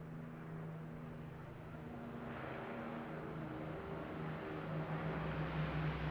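Battle of Britain Memorial Flight aircraft pass over the Eastbourne International Airshow, a faint, distant engine drone that swells slowly and steadily, with crowd ambience beneath.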